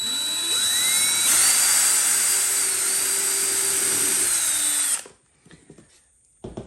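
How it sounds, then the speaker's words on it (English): A loud, steady power drill with a Forstner bit whines continuously for about five seconds, pitch shifting slightly as it bores, then stops abruptly, leaving faint clatter and quiet handling noise. "So using the Forstner bit, I go in the center and I just move slowly."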